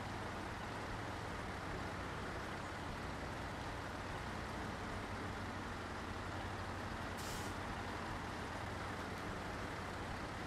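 In SnowRunner, a GWC Atlas M1070 military truck strains up a hill with a dense, continuous engine drone and road noise. The sound is loud and unbroken, and a brief hiss like an air brake cuts through near the end.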